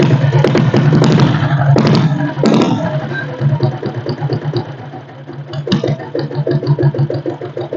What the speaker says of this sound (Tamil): வண்டியை செல்ஃப் போட்டு காட்டுறேன் பாருங்கள்.